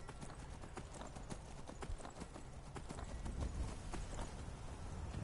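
Steady clip-clop of horse hooves in the video game Skyrim, in a quick, even rhythm over a constant low background rumble, moderately loud and close.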